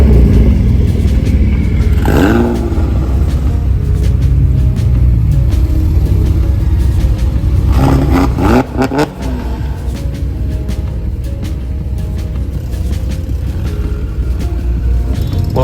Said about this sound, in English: let's go ahead and listen to the cars rolling out.